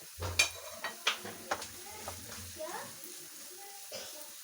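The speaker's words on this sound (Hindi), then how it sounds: "ये देखिए मसाला हमारा अच्छे से ये भून रहा है साथ साथ।" Dry spices being roasted and stirred in a pan for an Afghani eggplant dish, with soft sizzling and a series of clinking scrapes from the spoon against the pan, close and moderate, with no speech over it.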